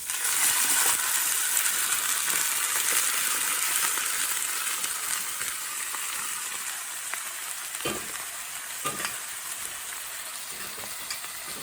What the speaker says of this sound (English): I'm going to add to it my broccoli